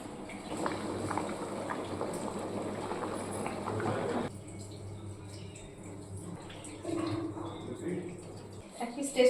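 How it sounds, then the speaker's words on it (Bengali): A pot of thin mutton curry with potatoes bubbles at a steady simmer, a soft continuous burbling that drops quieter midway, while someone talks over it throughout. "এটা এখন ভালো করে ফুটিয়ে নিলেই তৈরি হয়ে যাবে আমাদের খাসির মাংসের পাতলা ট্যালটেলে ঝোল"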